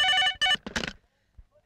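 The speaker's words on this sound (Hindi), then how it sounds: "लगता है सलीम का कर्जे के लिए फोन आया है।" Telephone ringtone in a Hindi film scene, two loud electronic ringing bursts followed by a short rustle and a faint thump, no voices.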